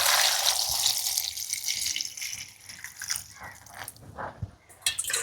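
Indian gooseberries (amla) are rinsed by hand in water, giving soft splashing, swishing and dripping sounds with a few small knocks, close and fairly quiet.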